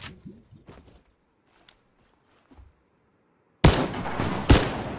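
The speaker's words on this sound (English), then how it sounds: "I can hear shooting over there." Video game gunfire in a battle royale match, with faint distant shots at first, then a loud close burst of rapid automatic fire for the final second and a half.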